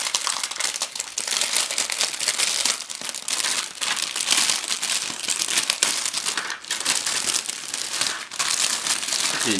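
Plastic bag of parts for a Takom 1/35 SpPz 2 Luchs A1/A2 model kit crinkling and tearing open, a dense, close crackle that runs steadily throughout with no speech.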